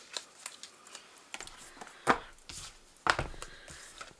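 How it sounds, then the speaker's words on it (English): Large oversized tarot cards are shuffled by hand with soft irregular taps and two sharper riffling snaps, close and quiet. "What if I shuffle like this?"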